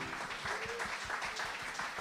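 A church congregation applauds together during a worship service, steady crowd clapping with a rapid, even rhythm that holds for the whole stretch, fairly close and full, with no talking over it.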